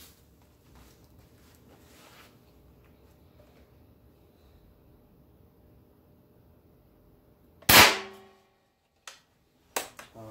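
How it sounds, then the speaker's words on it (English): A Benjamin Bulldog air rifle fires a 145 grain Benjamin Nosler bullet across a chronograph: one loud, sharp report cuts through a quiet, low hum, followed by a few fainter clicks and knocks. "we're going to take these three shots across the chronograph with a 145 grain Benjamin Nosler bullets"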